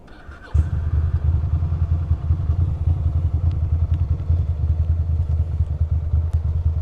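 A Ducati motorcycle engine catches after a faint start and settles into a loud, close, lumpy idle with rhythmic pulsing exhaust beats that continue steadily.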